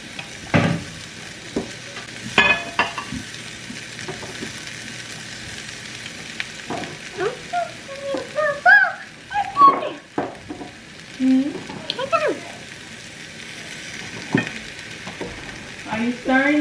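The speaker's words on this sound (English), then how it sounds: "Are you stirring, dude?" Food is stirred in a frying pan for a vegan dinner with a dash of liquid smoke, with a quiet sizzle and intermittent scraping strokes of the utensil, and brief voices and kitchen clatter scattered throughout.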